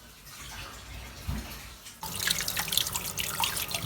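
Hot running water pours over beef bones for bulalo, Filipino beef shank soup, with a faint trickle building into a louder, steady splashing stream in a sink about halfway through.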